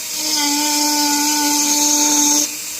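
A Dremel rotary tool carving a wood spirit into wood whines at a steady high pitch for a little over two seconds, then cuts off abruptly, leaving faint room noise.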